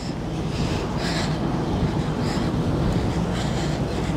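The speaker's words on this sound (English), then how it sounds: "Got high winds again," Strong wind gusts at 55 mph during a dust storm near Barstow, California, roaring as a steady broadband rush with buffeting against the microphone, continuous and loud with no talk.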